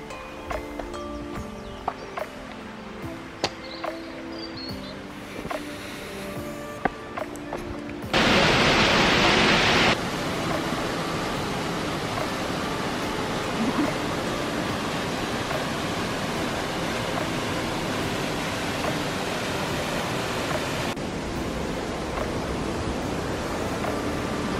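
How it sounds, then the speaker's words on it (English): Aira Force, a waterfall in England's Lake District, roars as a steady broadband rush of falling water that fills the second half, after a stretch of other sounds and a brief louder burst. "We then made our way to Air Force Waterfall."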